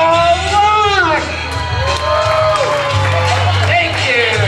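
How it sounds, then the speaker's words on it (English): Audience at a live magic show clapping and cheering for the performer, a loud, sustained crowd roar with whoops, while a voice talks over it. "Please give a round of applause for Paul Lux."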